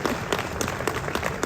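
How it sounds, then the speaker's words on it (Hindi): An audience at an insurance advisors' meeting applauds, a dense, steady patter of many hands clapping together for a short moment. "तो यार एक ताली तो बजानी चाहिए थी ना।"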